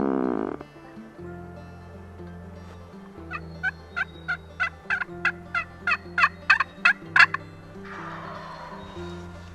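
Wild turkeys gobbling on public hunting land in New York, a run of about a dozen sharp, evenly spaced calls rising in loudness over a steady low background hum, with no talking.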